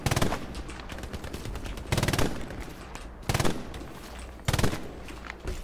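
Gunfire in the WWII shooter Hell Let Loose on a Stalingrad map: four sharp, loud bursts of shots spaced about a second and a half apart over a low, busy battlefield background.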